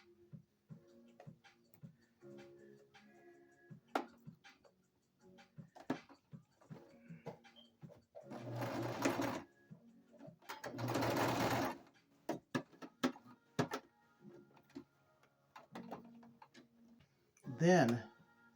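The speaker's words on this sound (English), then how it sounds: "stitch that elastic down" Sewing machine stitching elastic down onto girly head gear: bursts of rapid mechanical whirring alternate with ticking clicks and handling noises, fairly close and clear.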